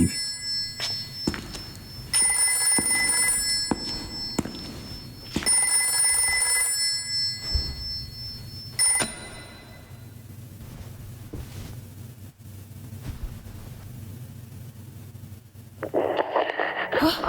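An old-style telephone bell rings in repeated long bursts through the opening seconds of a dark horror game, loud and harsh, then stops, leaving low ambient hum and a brief bright noise near the end.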